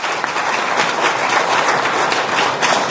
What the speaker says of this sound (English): Let's give a round of applause to Professor Nuwagaba.